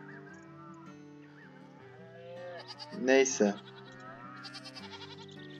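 A goat bleats in the Farm Manager farming video game, one loud wavering cry in the middle, with someone speaking before and after it.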